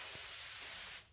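A spray bottle mists spirulina solution onto plant leaves in one close, continuous hiss lasting about a second before cutting off.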